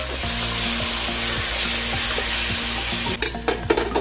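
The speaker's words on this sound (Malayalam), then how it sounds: "നമുക്കൊന്ന് മിക്സ് ചെയ്ത് കൊടുക്കാം നല്ലപോലെ." Spatula stirring chicken masala with tomato ketchup in a frying pan, a steady loud sizzle with rhythmic scraping strokes, then sharper clatter near the end, no voices.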